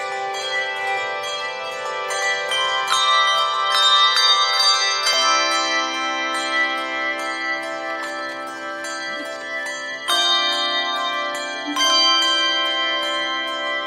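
A church bell choir rings a prelude during a Sunday worship service, with clear sustained tones and chords struck in a steady, unhurried rhythm that ring on and overlap, full and close in the room.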